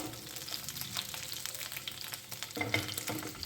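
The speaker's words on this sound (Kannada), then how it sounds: "ಎರಡು ಕಡೆನೂ ಚೆನ್ನಾಗಿ ರೋಸ್ಟ್ ಆಗಬೇಕು." Goan chicken cafreal pieces roast in a pan with a soft, steady sizzle and crackle, joined by occasional stirring scrapes that grow louder toward the end.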